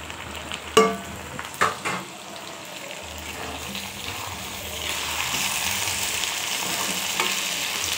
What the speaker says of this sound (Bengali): সব কিছু মশলা এর মধ্যে দিয়ে আমি ভালো করে এবারে কষতে থাকবো